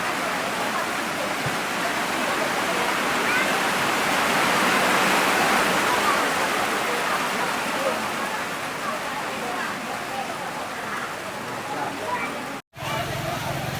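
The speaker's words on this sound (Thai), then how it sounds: "ฝนมาแล้วฝนมาแล้ว" Heavy rain pours down in a dense, constant roar, loud and unbroken, with a brief dropout near the end, at a market near the Thai-Lao border.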